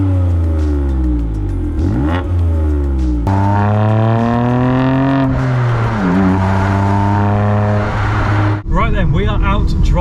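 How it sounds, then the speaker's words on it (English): A BMW M2 Competition with a manual gearbox drives hard. Its engine note climbs loudly through the revs, drops sharply at each gear change and pulls up again, then settles into a rougher, lower drone near the end. "We are out driving the BMW M2 competition."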